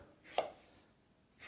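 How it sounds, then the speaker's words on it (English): A knife chops through an apple around the core, with one or two crisp close cuts and a quiet pause between them. "Just chop around the core."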